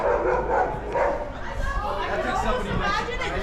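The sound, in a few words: dogs barking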